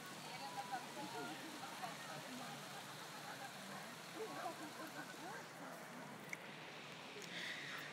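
Light summer rain falls as a soft, steady hiss of drops on surfaces, very faint and even throughout with a few slightly louder drips.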